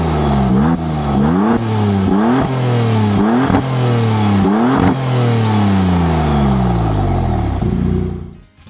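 A powerful twin-turbo V6 engine revs repeatedly in sharp bursts, pitch climbing and dropping with each blip, then settles into a long, falling wind-down before cutting off.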